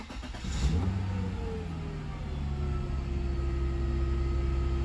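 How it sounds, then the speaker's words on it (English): An Acura or Honda car engine cranks and catches, then settles into a steady idle that holds close and loud, with no talking over it. "I'm gonna go ahead and start up the vehicle."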